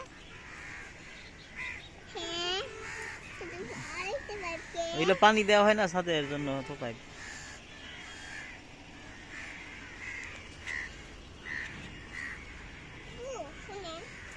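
Several crows cawing in harsh bursts nearby on a rooftop, mixed with children's voices and chatter in the background.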